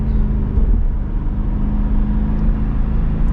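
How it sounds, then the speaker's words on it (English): Chevrolet C8 Corvette engine rumbling inside a tunnel, a deep, steady droning hum that echoes off the walls, loud and close with no other sounds. "First rev bomb in the tunnel for the C8."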